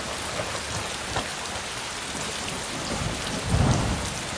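Heavy, steady rain pours down in a dense continuous hiss, with low rumbles of thunder rolling underneath and a deeper thunderclap building near the end; no voices.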